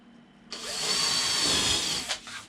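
A power drill drives a screw into the back plate of a bonsai display backdrop, one sustained close whirring burst of about a second and a half that ends with a short tail.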